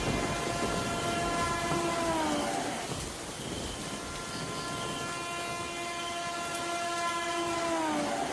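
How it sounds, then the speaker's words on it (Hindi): A train rolls into a railway station late at night, its continuous loud rumble carrying long sustained horn-like tones that fade and return, with no voices. "रेलवे स्टेशन पर आखिरी ट्रेन आई।"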